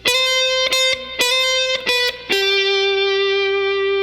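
Distorted electric slide guitar plays the final phrase of a solo, several sliding, sustained notes with short breaks, ending on one long held note that rings out clearly.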